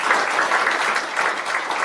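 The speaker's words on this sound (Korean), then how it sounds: "박수 한번 쳐주세요." An audience at a Buddhist monk's public talk gives a short round of applause, a dense, even wash of clapping at moderate loudness with no pauses.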